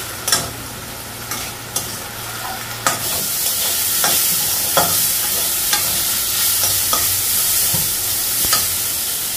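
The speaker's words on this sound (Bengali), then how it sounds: "শাক ভাজিটা হয়ে গেছে" Leafy greens and potato fry in a wok with a constant hiss of sizzling oil, punctuated by sharp repeated scrapes and clacks of a spatula stirring, no talking.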